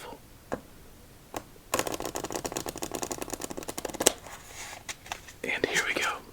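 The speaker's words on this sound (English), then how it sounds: "we have all of our suits in order, ace to king. Let's do our victory shuffle." A deck of playing cards being shuffled, a dense fluttering riffle for a couple of seconds followed by softer snaps and rustles, close and quiet.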